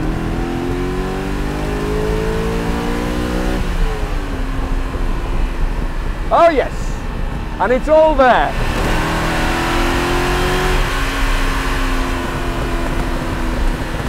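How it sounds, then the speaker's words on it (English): A Lamborghini Jalpa's V8 engine revs and roars steadily, with someone talking briefly over it partway through. "this just sounds like a V8"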